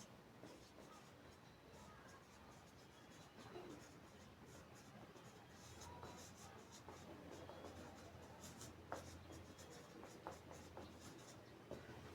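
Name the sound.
writing by hand during a math lesson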